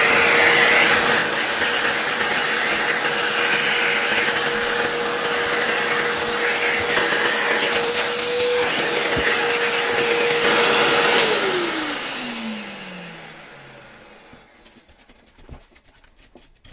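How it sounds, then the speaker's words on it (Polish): A loud vacuum cleaner dusting off the motor of a disassembled Interstate Engineering Compact C-6 vacuum whines steadily for about eleven seconds, then powers down with a falling pitch, followed by a few faint clicks. "Spróbuję teraz troszeczkę ten silnik odkurzyć"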